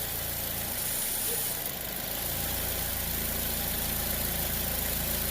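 A car engine idles steadily as it is shifted between reverse and drive on a worn motor mount, a low, constant rumble with a slight change in tone partway through, heard up close.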